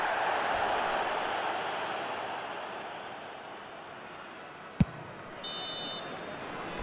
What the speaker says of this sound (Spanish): Y aquí está el pitido final.